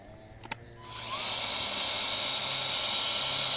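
An AL-KO TL 1820 18 V battery cultivator starts for the first time: after a quiet moment and a small knock, its electric motor whirs up and holds a steady, fairly loud high-pitched whine, near and without talk.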